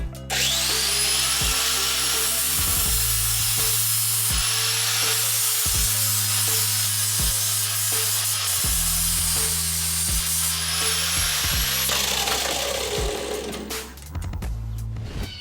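Angle grinder fitted with a 40-grit flap disc working on Ford Econoline E150 van front suspension parts, a continuous high-pitched whine with a rough grinding layer and brief interruptions, close and loud, no speech.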